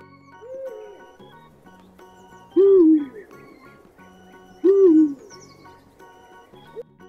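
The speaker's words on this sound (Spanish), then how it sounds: "Vamos a escuchar al búho." An owl hoots twice in a clear, close call, each hoot a short wavering note with a dip in pitch, spaced about two seconds apart over quiet background.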